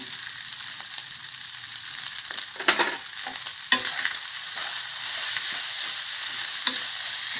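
Taro fried rice stir-fried in a wok, a steady broad sizzle with scattered scrapes and clatters of the spatula against the pan, close and continuous throughout with no talk.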